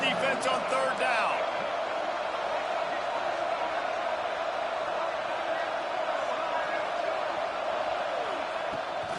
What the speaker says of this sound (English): The Red Raider crowd rising to the occasion to help its defense on 3rd down.